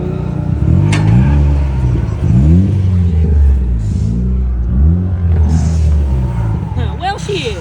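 A Mazda Miata engine revs hard in second gear, close and loud, with repeated rising and falling sweeps of throttle and a rough, strained tone near the end.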